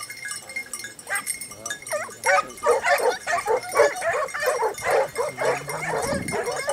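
A pack of hunting hounds at a pack trial bays and yelps in a dense, overlapping chorus, near and loud, with rapid uneven barks and high yips piling over one another and a voice briefly heard among them.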